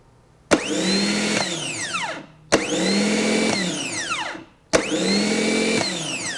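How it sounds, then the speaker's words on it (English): A car starter motor on a bench test whirs up three times in quick bursts, each starting with a sharp click and spinning at a high whine before cutting off, loud and close. "The starter drive is engaging out to the point where it'd be touching the flywheel on the vehicle"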